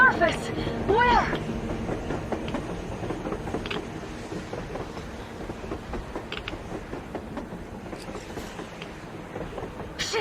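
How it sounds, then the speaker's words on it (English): A train passes on the surface in the video game Metro Exodus, with clanking rail and wagon mechanisms rumbling steadily for about ten seconds, loudest at the start and then settling under a voice. "A train! A damn train on the surface!"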